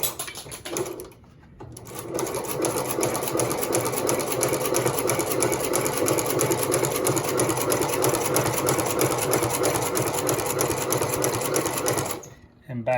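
A Consew 29 cylinder arm shoe-repair sewing machine runs a lock stitch at a small stitch length, a fast steady mechanical chatter for about ten seconds after a brief start, then stopping; a voice speaks briefly around it.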